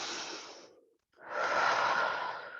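Forceful breaths during a bootcamp workout exercise, close and airy: a long breath, a brief gap, then a stronger, sustained exhale, with no talk.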